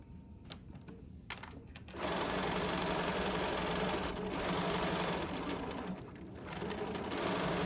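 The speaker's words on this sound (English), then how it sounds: "So now I'm going to sew down again with a 1/4 inch seam." A sewing machine stitches a quarter-inch seam on a quilt block, starting after a few soft clicks and running steadily close by, with brief dips in speed as it continues.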